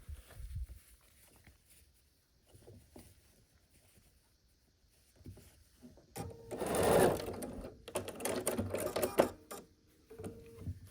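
A sewing machine joins two quilt pieces into a pinwheel block, running in a short, close burst of rapid stitching after a quiet stretch with faint handling noises.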